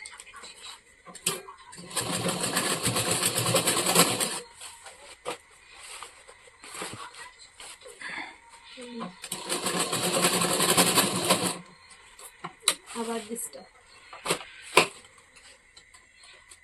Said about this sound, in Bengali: এইভাবেই করব ডাবল সেলাই দিয়ে করব কাজটা